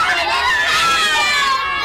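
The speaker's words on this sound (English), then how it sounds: "Finally, the disciples screamed in unison." Several disciples scream together in unison during a staged Palm Sunday Bible story of Jesus asleep in a storm-tossed boat; a loud, sustained group shriek with layered voices, close and continuous.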